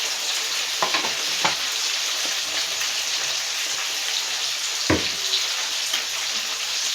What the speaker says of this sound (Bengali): তো এদিকে মাছটা ভাজা হতে থাকুক।